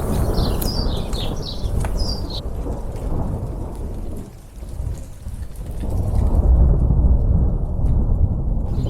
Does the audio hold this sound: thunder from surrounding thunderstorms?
yes